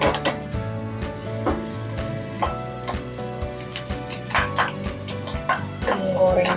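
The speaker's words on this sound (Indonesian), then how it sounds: "Menggoreng cabenya sekarang." Chili peppers fry in a pan, with a steady sizzle under repeated clinks and clatter of a utensil stirring against the pan, fairly busy and close.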